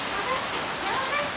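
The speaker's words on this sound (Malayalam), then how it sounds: "മഴ മഴ പെയ്യുന്നത് കാണാല്ലേ നിങ്ങൾക്ക്?" Heavy rain pours steadily outdoors, a dense, even hiss of falling water with no distinct drops or thunder, heard alone for a brief moment.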